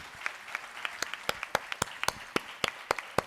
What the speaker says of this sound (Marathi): बाबूजी सुधीर फडके यांच्यासाठी जोरदार टाळ्या झाल्या पाहिजे